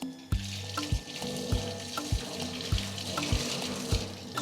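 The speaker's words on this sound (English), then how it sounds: "we need to wash our hands." Water runs from a tap in a disinfection handwashing area at a goat slaughterhouse, with a steady splash and a series of regular soft knocks, no voices.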